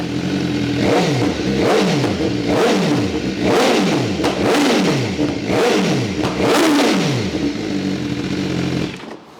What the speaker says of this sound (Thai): เราต้องทำคัดเข้าเกียร์หนึ่งครับถึงจะเบิ้ลได้นะครับ